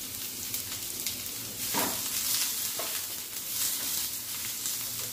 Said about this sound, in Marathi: त्यामध्ये आता मी पहिले कांदा टाकते.